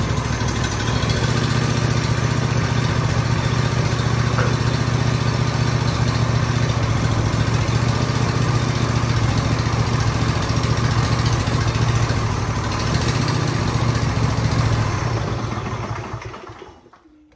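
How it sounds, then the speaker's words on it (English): A John Deere riding lawn mower with a swapped-in V-twin engine runs loud and steady at close range, a continuous throbbing drone that cuts off near the end. "All right, see if it starts."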